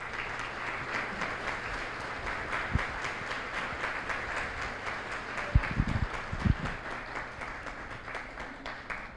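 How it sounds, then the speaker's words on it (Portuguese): An audience at a church gathering applauds to welcome a guest, a steady roomful of many hands clapping for the full stretch at moderate distance, with a few louder nearby claps standing out. "Eu gostaria que a recebêssemos com uma salva de palmas."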